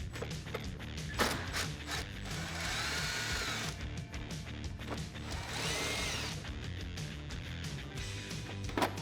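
Bolts being removed from the air box on a Jeep Wrangler TJ fender, with a power driver whirring in short bursts and longer steady runs alongside metallic clicks and rattles of tools, close up.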